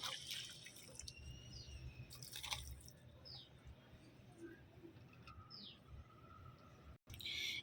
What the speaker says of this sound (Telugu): సో దీనికి నేను ఈ వాటర్ అనేది అందించేస్తున్నాను